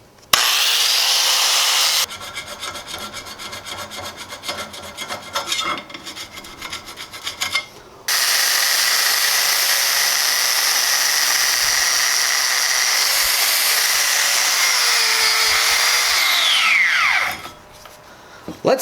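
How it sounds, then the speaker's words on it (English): An angle grinder grinds down a built-up weld on a broken Parker vise being restored, a loud, steady rasping whine in long bursts with a brief pause partway through, ending as the tool spins down. "Let's just grind this down"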